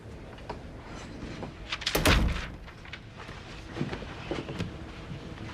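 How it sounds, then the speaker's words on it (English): An office door swings shut with one solid thud, set among faint footsteps and room shuffling in a police station captain's office. "Shut the door."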